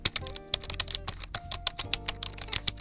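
Keys clack on a Razer Ornata V3 X keyboard held close to the microphone, a steady run of soft, muted presses at an even typing pace, with quiet music underneath.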